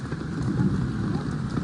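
Steady rain falls and patters without a break, forming a dense hiss that fills the whole stretch.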